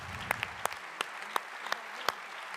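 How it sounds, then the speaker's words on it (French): Sparse, scattered clapping at an awards ceremony: about half a dozen separate sharp hand claps spaced unevenly over a couple of seconds, fairly quiet, with no voices. "il y a plein de petites fourmis ici qu'il faut applaudir"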